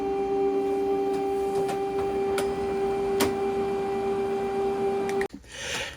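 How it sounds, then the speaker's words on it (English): An HP Color LaserJet Pro MFP M283FDW printer calibrates its cartridges with a steady mechanical hum and a few sharp ticks, then a clunk as the tone stops and motor whirring follows. "wait for the printer to calibrate the cartridges"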